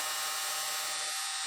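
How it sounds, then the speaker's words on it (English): A small power tool deburring the top of a freshly cut aluminum thread on a machined vise part, giving a steady, loud high-pitched whirring grind that runs without a break. "Here I am removing the little burr that's left at the top of the thread"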